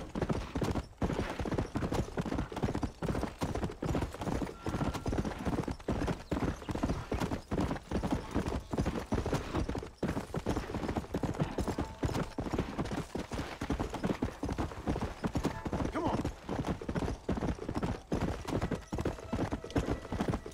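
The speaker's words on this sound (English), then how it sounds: "Let's ride out to the McFarlane Ranch." Steady, rapid horse hoofbeats in Red Dead Redemption clip-clop continuously at a gallop, close and even, with no talking over them.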